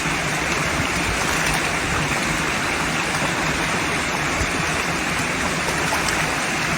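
Floodwater rushing steadily after a dam was opened, forming a broad, loud, continuous roar of flowing water with no pauses.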